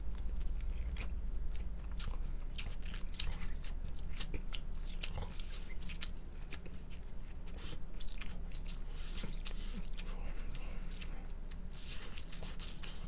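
Loud, close open-mouthed chewing while eating rice, wet smacking and crunching running steadily throughout with no talk.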